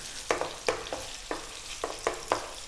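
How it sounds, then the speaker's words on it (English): A cup of onion fries over medium heat for a tofu mushroom curry, with a soft sizzle under a series of sharp, evenly spaced scrapes and clacks as the pieces are kept moving in the pan. "We're now going to drop in our onion, 1 cup of onion. Above medium heat, just 3 minutes. Keep it moving"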